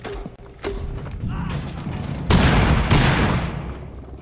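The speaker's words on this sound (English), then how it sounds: "Machine gun, ha?" A mounted LMG with a large barrel fires in Rainbow Six Siege: after a few mechanical clicks and clanks, a loud, close burst of rapid automatic fire rattles for about a second, then tails off into rumbling game noise.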